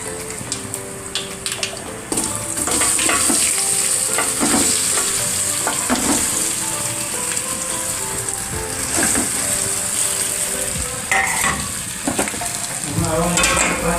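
Muthiya dhokla pieces frying in an oil tempering with curry leaves and white sesame seeds, giving a loud, continuous, close sizzle with stirring clatter and scraping throughout.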